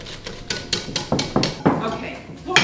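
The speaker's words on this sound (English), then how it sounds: "so we're going to give it a good old whisk." Whole eggs and plain flour whisked into a Yorkshire pudding batter, a close, rapid series of rhythmic clinks and taps of the whisk against the bowl.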